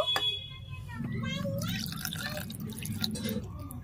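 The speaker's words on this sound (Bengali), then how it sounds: "এখন আমি এর মধ্যে আরো 1 কাপ জল এড করে দেব।" Water poured from a cup into pitha batter for kheersa patishapta, a close, steady splashing and trickling pour running for several seconds.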